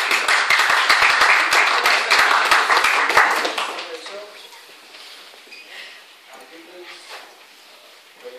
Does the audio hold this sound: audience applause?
yes